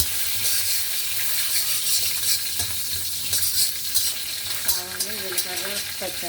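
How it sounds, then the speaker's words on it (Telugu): Mustard seeds, cumin and green chillies crackle and sizzle steadily in hot oil, with occasional stirring scrapes and faint clinks near the end. "ఆవాలు, జీలకర్ర, పచ్చిమిరపకాయలు, పోపుకు కావాల్సిన సామాన్లన్నీ వేస్తున్నారు"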